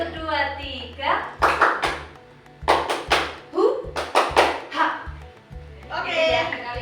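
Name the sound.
hand clapping three times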